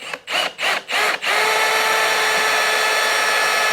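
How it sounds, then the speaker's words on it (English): A power drill boring into motorcycle plastic on a Yamaha Moto 4 200, starting with four short stuttering bursts and then settling into a loud, steady, high-pitched whine held close by. "I'm drilling right over my knee"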